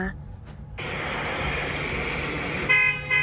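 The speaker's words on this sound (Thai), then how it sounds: "เสียงบีบแตร ใส่จากซุปเปอร์คาร์ที่มาพร้อมกับเปิดไฟสูงสว่างจ้า" A supercar horn blares near the end, a loud sustained toot over a rushing wash of engine and road noise.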